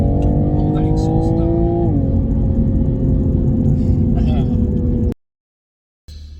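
A 2021 Toyota GR Supra Limited A91 sends out a loud, steady, deep exhaust drone whose pitch dips once, heard close under a speaking voice, before it cuts off abruptly to silence.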